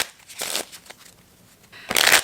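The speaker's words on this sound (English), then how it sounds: "We'll put the 5 of spades back in the deck and we'll shuffle" A deck of playing cards being shuffled, two short close riffling bursts separated by a quiet pause, the second louder and crisper.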